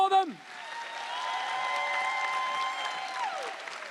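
A live comedy show crowd at a convention room applauds softly, the clapping thin and distant under a sustained musical tone, with a brief voice at the start.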